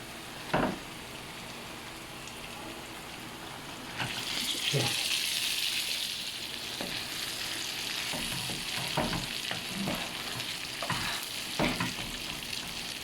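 Brain masala (bheja) sizzles in a pan as a spoon scrapes and stirs it, a soft frying hiss that swells midway with intermittent clinks and scrapes.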